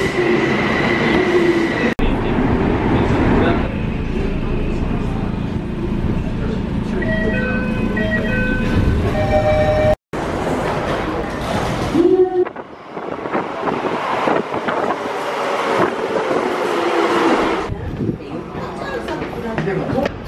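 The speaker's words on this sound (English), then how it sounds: "Right now I am waiting for my train." A train pulls in and idles at a Tokyo-area station, with a steady loud rumble, chiming tones and announcements, then a brief cut to a rougher, noisier stretch of rolling rail noise.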